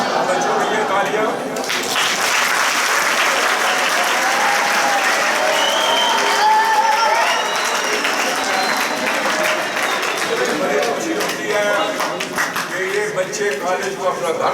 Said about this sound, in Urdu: بچوں کے لیے تالیاں